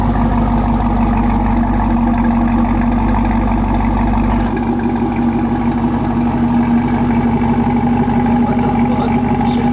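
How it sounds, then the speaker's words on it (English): A Chevrolet Camaro ZL1 V8 with a Borla ATAK exhaust idles loud and close, a heavy steady rumble that drops in pitch and changes tone partway through, with no clear rev surge. "Give it a rev with it closed. Now open it up."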